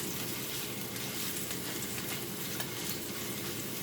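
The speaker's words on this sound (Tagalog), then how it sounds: "Lutuin natin ang garlic at sibuyas" Garlic and onion fry in a pan for pancit gisado, giving a steady, close, crackling sizzle with occasional stirring scrapes and no talking.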